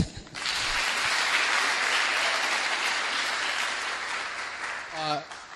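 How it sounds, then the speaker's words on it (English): A large audience at a premiere event breaks into sustained applause, dense hand clapping that continues steadily for several seconds before fading, with faint voices mixed in near the end. "A hand clap for that."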